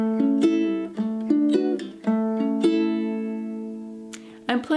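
Light finger picking on a low-G tenor ukulele, with single plucked notes rising across the strings and ringing pairs, played alone, clear and close.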